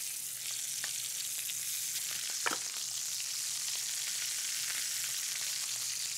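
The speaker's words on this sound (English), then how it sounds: "Browning at first adds great flavor, and that's why you wanna give it a quick sear." Beef short ribs sear in a hot pan, giving a loud, continuous hiss of sizzling fat with occasional small pops and no voices.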